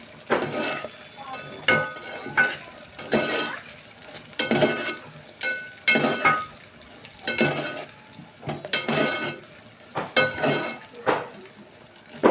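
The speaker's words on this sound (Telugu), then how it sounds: "నిమిషం పాటు అయితే ఇలా వేయించుకున్నాం బాగా" Mutton fries in a pan with green chilies for gongura mutton curry; a utensil scrapes and stirs in repeated short bursts against a soft sizzle, close by and moderately loud.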